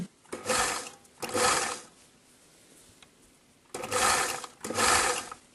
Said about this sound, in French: On passe à la machine.